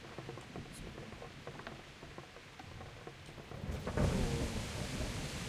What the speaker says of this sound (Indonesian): Wah, hujan guys.